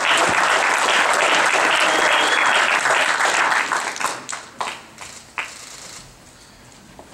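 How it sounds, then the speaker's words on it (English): A crowd at a boxing post-fight press conference applauds loudly and densely, then the clapping thins into scattered individual claps and fades out. "Let's give him a big round of applause"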